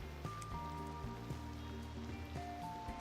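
Steady rain hisses across a Cities: Skylines 2 city, a soft, even patter beneath sustained background music tones, with no one speaking.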